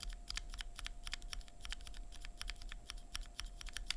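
Stock BSUN Glacier Panda linear switches with no factory oil clack steadily under fast typing, a rapid run of sharp, close keystrokes with a slightly scratchy character and no voices.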